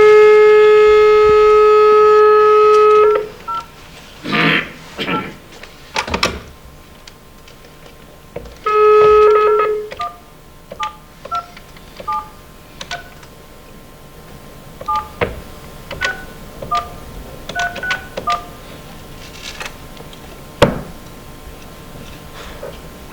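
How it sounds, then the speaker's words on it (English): Telephone dialing tones ring out loud and close, with a long steady tone followed by a sequence of short keypad beeps in quick succession, then scattered clicks and faint ticking as the call connects. "I'm going to dial Dan and we'll try and have a word with him here"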